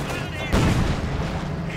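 A deep, heavy cannon boom from a T-34 tank firing in the Company of Heroes 2 strategy game, one loud blast over a dense, constant battle din with a commentator talking.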